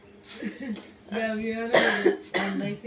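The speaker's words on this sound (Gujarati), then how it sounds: "ઉધરસ થઈ ગઈ છે." A few coughs, close and fairly loud, in short bursts with some voiced throat sounds between them.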